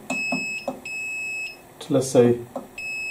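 A UV exposure unit's control panel gives several short, high electronic beeps, spaced irregularly as its timer buttons are pressed, with someone speaking between them.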